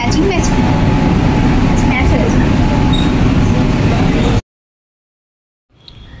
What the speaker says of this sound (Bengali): আমাদের ট্রেন ছেড়ে দিয়েছে হাওড়া ময়দান থেকে